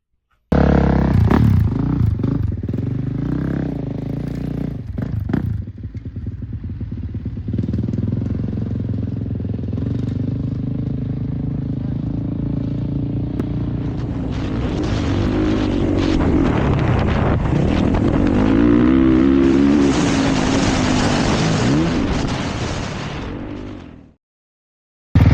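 A Kawasaki KX450 motocross bike with freshly revalved forks, pressure springs and low-speed subvalves rides hard. The engine revs up and down close to the microphone through wind buffeting, then the sound cuts off at the end.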